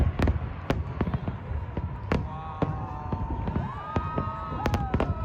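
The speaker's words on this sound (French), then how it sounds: "That's the final fireworks." A fireworks finale in Montreal brings sharp bangs at irregular intervals over a dense crackling rumble, with whistling rockets rising in between. Spectators' voices murmur faintly beneath, and one person exclaims briefly.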